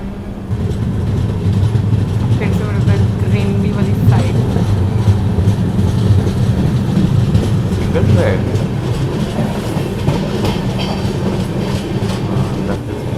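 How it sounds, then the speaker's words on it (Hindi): The Jharkhand Swarna Jayanti Express runs on the rails between Muri junction and Barkakana, a loud, steady rumble heard from on board with continuous wheel clatter and an occasional clack. "हमारी ट्रेन यहाँ से निकल चुकी है अब बरकाकाना की तरफ।"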